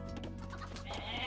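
Goats in the Age of Mythology video game bleating, a couple of short nasal bleats over a steady game background hum, moderately loud and near.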